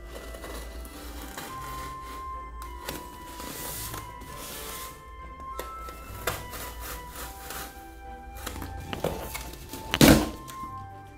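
Cardboard rustling, scraping and tape tearing as a meat delivery box packed with ice packs is handled and opened, ending in a sharp louder thunk or pop near the end.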